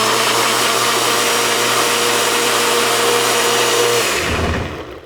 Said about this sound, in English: And just let the blender do its job.